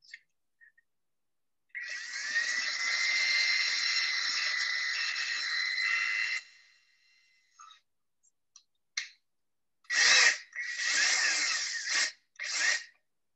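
A drill bores into a tree branch to prepare a graft, running in one steady whine for several seconds, then a short pause and a few brief separate bursts, fairly close with no talking.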